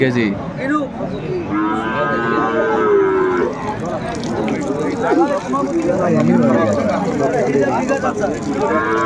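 Cattle market selling cows with calves: several drawn-out cow moos rise over steady crowd chatter and voices nearby, with one moo near the middle standing out clearly.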